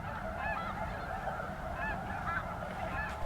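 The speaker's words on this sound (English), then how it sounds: "Finally, some snow geese." A flock of snow geese honks continuously at a moderate distance on a slough, overlapping calls forming a steady chorus with no other sounds.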